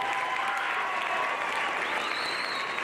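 At a high school boys basketball senior recognition, a gym crowd gives steady, sustained applause to the graduating seniors and their parents, filling the hall evenly.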